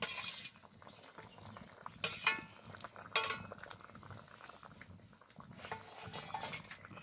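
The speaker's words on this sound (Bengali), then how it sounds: "এবার দিয়ে দেবো ভেজে রাখা পটল।" Fried pointed gourd goes into a simmering potato and paneer curry in a pan, with a few sharp clinks of a spoon against metal and soft bubbling between them.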